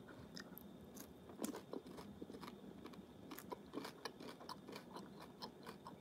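Crunchy biting and chewing of a chocolate bar with Rice Krispies and a fudge center, made by Nestlé, heard close up as a steady run of crisp, irregular crackles and snaps with no talking.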